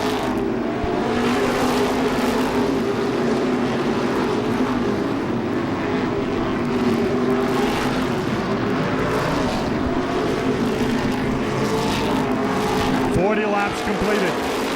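Modified race cars at Seekonk Speedway roar continuously in heavy traffic down the front straightaway, a loud sustained engine drone with cars passing, while a commentator talks over it.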